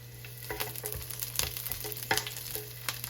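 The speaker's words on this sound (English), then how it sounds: "Put your 2 more tablespoons of olive oil in the skillet, and let's saute the onions" Onions sautéing in olive oil in a skillet, a continuous close sizzle broken by soft utensil taps and stirring scrapes every second or so, with no voices.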